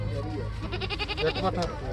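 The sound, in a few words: goat bleating at a village goat market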